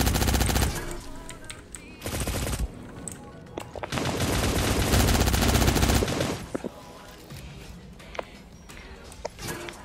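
Bursts of rapid gunfire crackle in long volleys, loud and dense, with short gaps between the bursts.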